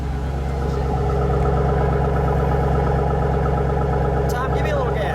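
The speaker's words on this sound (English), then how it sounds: "I'm going to get just a little idle exhaust for a second." A red 2007 Ford Mustang Foose Stallion Edition with a cold air package idles close by, a steady low rumbling exhaust note that holds evenly throughout, with a brief voice near the end.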